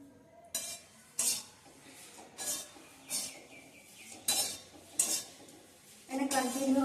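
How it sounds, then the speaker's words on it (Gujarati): Corn poha roasts in a hot kadai while a metal spatula stirs and scrapes it, giving repeated clinks and rasps in an uneven rhythm over a faint background sizzle. "હવે હું 3 કે 4 મિનિટ માટે પૌવાને શેકી લઈશ"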